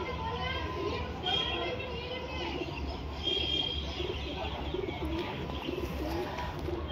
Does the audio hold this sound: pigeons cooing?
yes